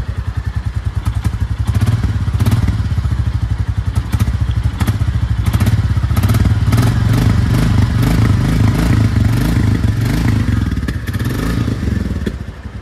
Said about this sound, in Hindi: अब मैं बाइक को ऑन करता हूँ एक बार और आपको इसका एग्जॉस्ट नोट सुनाता हूँ।